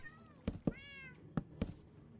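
A cat in the Minecraft video game meows several times, short separate calls spread across a couple of seconds, clear and close with no talking.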